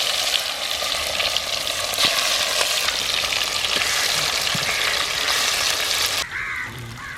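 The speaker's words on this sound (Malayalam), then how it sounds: "നമ്മൾ വറുത്താണ് ഇത് വെക്കുന്നത്." Chicken pieces frying in a pan of hot oil for a Kerala-style chicken curry, a loud, steady, close sizzle that runs throughout with a few faint clinks, then drops away sharply near the end.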